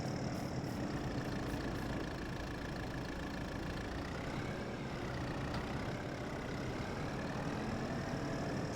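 A tractor engine idles in a farming game, a steady mid-pitched drone with a faint whine that stays even and continuous at low volume.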